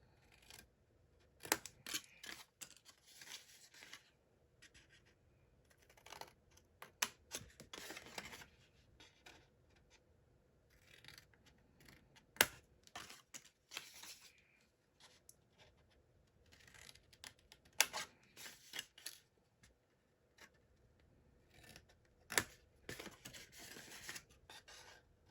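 Scissors snip pieces out of a paper treat box at an angle in quiet, scattered bursts, each a brief crisp cut or rustle, faint and close with pauses between.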